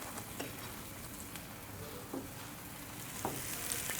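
Onions sautéing and softening in a pan, a soft continuous sizzle with a few light stirring clicks spaced apart, close but fairly quiet.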